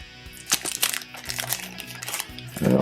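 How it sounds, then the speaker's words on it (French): Plastic wrapping crinkles and crunches in close, irregular bursts while a board game is being unboxed, loud and near with a brief rustle at the end. "Ça fait du bruit, le plastique."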